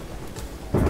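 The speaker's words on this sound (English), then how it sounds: "it's raining" Rain and thunder in the Terraria Calamity Mod video game: a steady rain hiss under a low rumble of thunder that swells sharply near the end.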